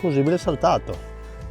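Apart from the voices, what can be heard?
No distinct noise like a dog, phone or traffic.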